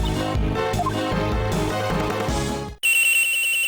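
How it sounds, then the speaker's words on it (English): A phone in the video game Ace Attorney Investigations 2 starts ringing abruptly with a bright, steady electronic tone right after music cuts off, lasting about a second. "A phone be ringing."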